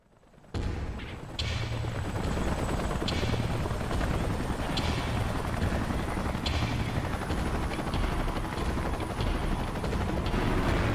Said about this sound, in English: So off it goes. Carried by 3 helicopters.